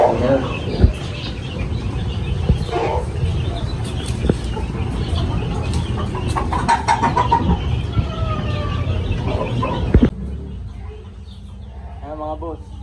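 A batch of young chicks being raised chirps and clucks amid steady background noise and mumbled voices, with clearer high peeping near the end once the noise drops.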